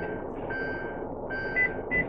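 Car slowly reversing into a parking space, with a steady low engine hum and a few faint, evenly spaced reversing beeps sounding over it.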